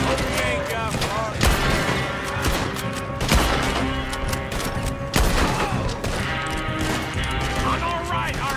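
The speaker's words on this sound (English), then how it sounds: "Shoot them, Arthur, before they blow us to high heaven" Dense gunfire from a Red Dead Redemption 2 shootout, with loud overlapping shots and booms rolling continuously and hard cracks standing out, all mixed under urgent shouted dialogue from the characters.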